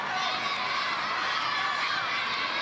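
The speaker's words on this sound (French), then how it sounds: "on entend les cris de la foule encore qui prennent pour le Canada" A crowd at a boccia match cheering and shouting for Canada, a dense, steady roar of many voices that holds throughout without breaks.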